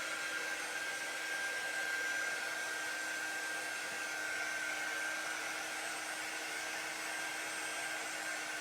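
A handheld dryer blows steadily to dry an inked chalk transfer on a shirt laid over parchment paper, giving a constant loud whirring hum that runs unbroken throughout with no talking.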